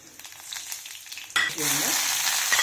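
Oil bursts into a loud, steady sizzle as fenugreek, mustard seeds, black pepper and cumin hit the hot pan, crackling continuously after a quieter start.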